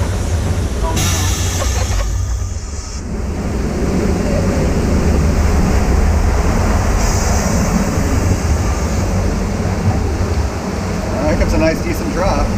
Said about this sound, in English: Alright, we're coming up to the next set of rapids.